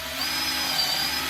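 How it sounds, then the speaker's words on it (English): A power drill spins up and runs steadily into a metal cart, a high whine holding a constant pitch for just over a second, close and fairly loud, with no voices. "Get a drill, and we'll just put it in here for a second."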